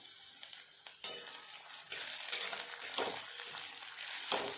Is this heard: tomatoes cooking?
yes